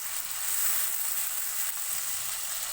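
Garlic-ginger paste frying with onion in a pan for masala khichdi gives a steady, bright, even sizzle throughout, close and fairly loud, with no voices, cutting off abruptly at the end.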